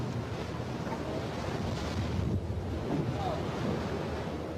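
Ocean waves churning around a cargo ship as it sinks, a dense continuous wash of surf and wind rumble that holds steady and fairly loud throughout, with no voices.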